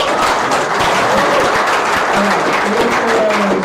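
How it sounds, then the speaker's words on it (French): An audience at a live startup pitch event gives the mentors a loud, dense round of applause, with faint voices mixed into the steady clapping. "on peut faire une petite vague d'applaudissements pour les mentors"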